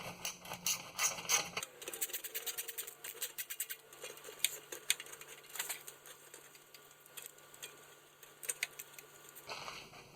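Power tool running bolts up on the transmission pan of a 1995 Chevy 1500, heard as fast, close ratcheting chatter that runs for several seconds at a time over a faint steady hum, with no voices.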